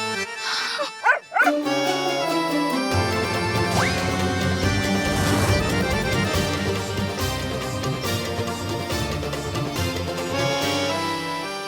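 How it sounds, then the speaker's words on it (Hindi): A few quick dog yelps and barks come at the start, then loud dramatic music swells and carries on over the rest. "अभी मैंने कुत्ते की भौंकने की आवाज सुनी"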